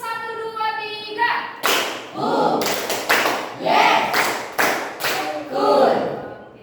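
A group of children claps in a counted rhythm, several loud unison claps in quick succession following a woman's spoken cue, with her voice resuming at the end.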